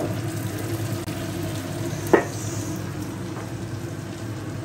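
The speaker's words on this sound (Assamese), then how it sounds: "এফালে মাছ ভাজিছোঁ" Fish frying in a pan in a home kitchen makes a steady, fairly quiet sizzle and hiss throughout, with one brief sharper clatter midway and no talking.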